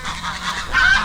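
Farm geese honk in a short, loud burst of overlapping calls that swells toward the end, with a dense cackling texture from several birds and no voices.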